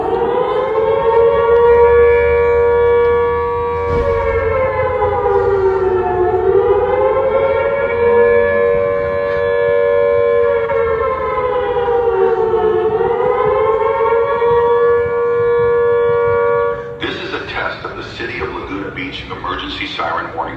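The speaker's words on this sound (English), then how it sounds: "Emergency siren warning system." A loud civil defense siren wails steadily, its pitch rising and falling in slow sweeps, then cuts to a busier mix of tones near the end.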